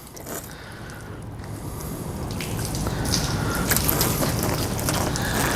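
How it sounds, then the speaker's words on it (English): Water sprays steadily from a garden hose onto a car with a broad, hissing rush that grows slightly louder, with light splashing against the surface and no talking. "we're just gonna spray some water and see if the water is reacting to the dirty surface"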